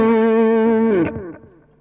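A Reverend electric guitar with P90 pickups rings out one sustained, gritty, distorted chord, which cuts off sharply after about a second and leaves a short fading tail.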